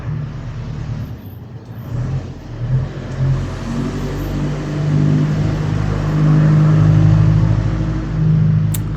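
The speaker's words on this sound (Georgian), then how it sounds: "ხალხმა გაიგვიძა და იქოქა მანქანები." Car engines nearby rumble and rev up, the loud motor noise building and holding steady.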